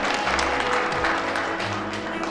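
Audience clapping at a formal breakfast lecture event as guests are introduced, a moderate continuous patter of hands with a low background murmur.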